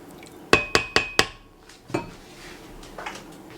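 A spoon clanks four times in quick succession against the side of a pot while garlic is stirred into red beans, followed by a softer knock and faint scraping, close and without talk.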